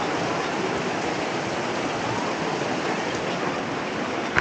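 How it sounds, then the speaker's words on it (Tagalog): Steady, dense rain falls throughout, an even close wash of hiss with no letup and a small bump near the end. "Umuulan."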